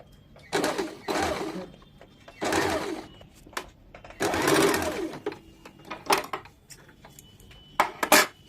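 A sewing machine stitches the small pleats of an umbrella baby frock in short, separate bursts of whirring broken by gaps, with small clicks and handling sounds in between.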